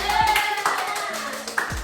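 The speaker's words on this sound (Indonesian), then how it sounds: "Beri tepuk tangan." Brief burst of classroom applause from a group of students, quick scattered hand claps lasting under two seconds with a teacher's voice faintly underneath.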